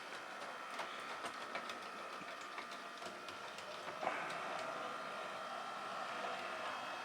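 A Hornby model locomotive runs along its track, giving a steady mechanical whirr with a faint rhythmic clatter that carries on throughout, rising slightly and growing a little busier in the last few seconds.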